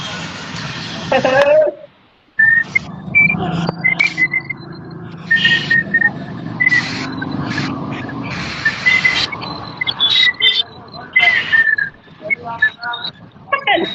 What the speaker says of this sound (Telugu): విజిల్ సూపర్ వస్తుంది